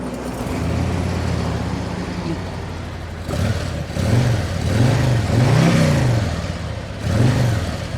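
A Harley-Davidson CVO motorcycle with a 117 cubic inch engine idles at a deep low rumble, then revs up and down several times in loud, close throttle blips.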